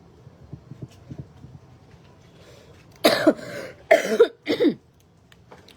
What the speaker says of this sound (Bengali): এমন কাশি